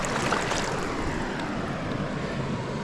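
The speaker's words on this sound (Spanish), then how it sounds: "Se escucha la cascada y una calma total" A waterfall on the Guadiaro River in Jimera de Líbar roars steadily and close, a broad continuous splash with no other sounds.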